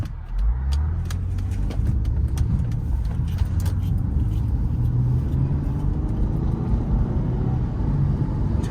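A 2012 Acura MDX SH-AWD drives on the road, its engine and tire noise a steady, smooth low rumble that holds at an even level throughout, with faint rattles on top and no talk.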